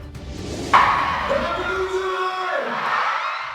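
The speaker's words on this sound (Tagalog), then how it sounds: "Hiyawan, palakpakan at sabay-sabay na pagkanta ang bumalot sa Rizal Park Open Air Auditorium" Fans at an SB19 watch party in Rizal Park Open Air Auditorium cheer and whoop loudly, a sudden burst of crowd noise with sustained shouting and tonal voices rising over a steady roar, close and continuous.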